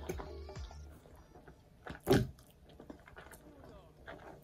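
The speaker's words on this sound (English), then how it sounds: "I'm gonna taste one of the crackers now." A cracker bitten and chewed close to the mouth during a Jamaican steamed fish meal, with one loud crunchy bite in the middle and softer chewing noises before and after.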